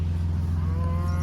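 Heifers moo close by, one low, resonant, sustained bellow with a steady droning tone that runs through the whole short moment, with no talk.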